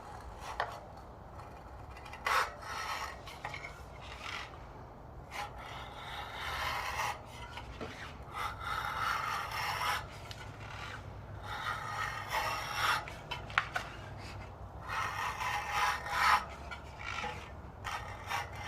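A blade cuts and rasps along a stiff rim strip, trimming it back on a Sun Ringle Mulefut bicycle wheel being converted to tubeless, giving quiet, close scraping strokes in uneven bursts with no talk.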